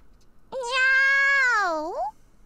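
A cat meows from inside a box in the Nekopara video game, one long drawn-out sound effect with a rising-falling tail, clear and close with nothing else around it.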